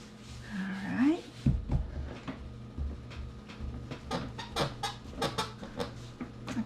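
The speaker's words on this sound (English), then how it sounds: "I got a squeaky table." An antique wooden table squeaks and creaks repeatedly while dough is rolled out on it. A rising squeal comes near the start, followed by a run of irregular knocks and squeaks.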